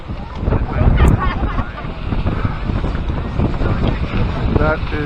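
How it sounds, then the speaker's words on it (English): Strong, cold wind buffeting the microphone on the snowy summit of Little Whiteface near Lake Placid, a loud continuous roar with gusty low rumbles and a faint voice underneath. "it is windy as heck and very cold."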